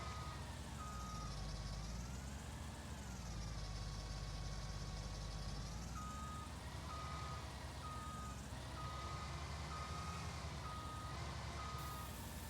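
Steady electronic reversing beeps repeat over a droning engine hum in Farming Simulator 19, the beeps coming in short regular pulses.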